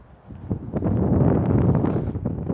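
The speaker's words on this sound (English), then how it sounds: "the wind's picked up as soon as I've got out." Wind gusting outdoors on a walk near houses, a steady broad rush that rises after a quiet start and stays loud and close against the microphone, with no talking.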